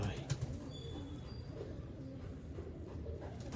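Sialkoti pigeons coo softly in a coop, a faint low murmur with a few quiet calls beneath steady background noise.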